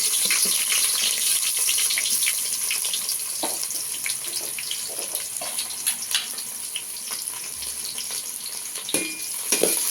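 Chopped onion from one medium bulb frying in a pan for lentil sambar, a steady close sizzle with scattered crackles and pops running throughout, no voices.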